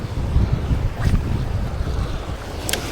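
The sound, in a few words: strong wind on the river while boating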